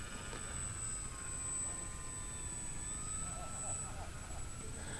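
A Volantex Saber 920 RC plane's electric motor whines in flight as a thin, high, steady tone with slight pitch shifts, heard at a distance under a noisy outdoor background.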